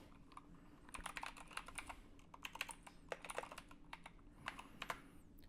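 Someone types on a computer keyboard at a steady, quick pace, with clustered bursts of clicky keystrokes and short pauses, close and fairly quiet, with no talking.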